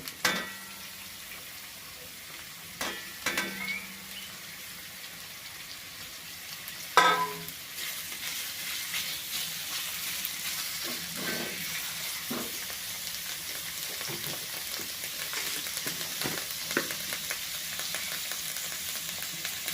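Sliced onions going into a pan where green chilies and ginger have already softened, for a crab curry. Moderate sizzling continues throughout, broken by occasional clinks and scrapes of stirring.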